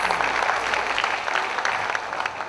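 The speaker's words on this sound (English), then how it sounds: "Let's give Mr. Sanjay Bell a big round of applause." Steady applause from a seminar audience, a dense patter of many hands clapping at moderate volume without pause.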